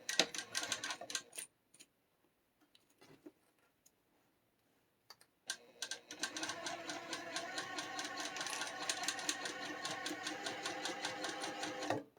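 A sewing machine stitching a quarter-inch seam without its walking foot, in rapid, even bursts, stopping for several seconds of near silence with a few faint clicks, then running again steadily.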